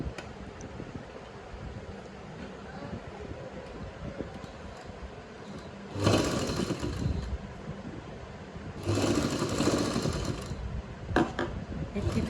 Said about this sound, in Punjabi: ਇਸ ਨਿਸ਼ਾਨ ਤੱਕ ਆਪਾਂ ਸਲਾਈ ਲਾਉਂਗੇ